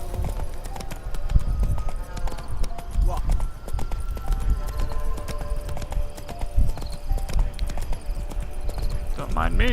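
Horse hooves clop in a steady, close galloping rhythm in The Witcher 3 video game, continuous throughout with other game sounds and a voice at times.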